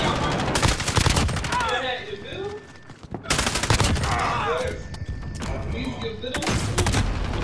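Bursts of gunfire in Call of Duty Modern Warfare come in dense rapid volleys separated by short gaps, loud and close, while a person talks over them.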